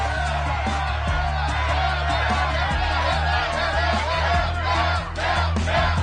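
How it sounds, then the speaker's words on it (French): A TV game show studio audience, on La poule aux oeufs d'or, calls out and murmurs in a steady excited babble of many voices, moderately loud and continuous with a brief dip near the end. "La foule s'est manifestée"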